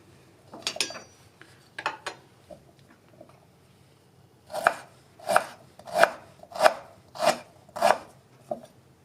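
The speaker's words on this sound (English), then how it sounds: "and then you can just start chopping it up." Knife chopping ginger on a cutting board: a few scattered cuts, then a steady run of six or seven firm, close chops in even rhythm.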